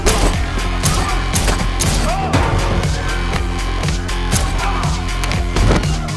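Rapid sharp gunshots and bursts of gunfire crack through loud, driving techno music with a heavy pounding beat, dense and continuous, in a scene from the film John Wick (2014).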